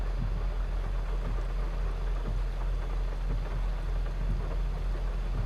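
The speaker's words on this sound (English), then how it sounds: "The rain's coming down, but it's not too bad." Rain falls steadily in the farming video game Court Farm, a soft, even hiss with a low rumbling underneath, continuous and fairly faint, with no voices.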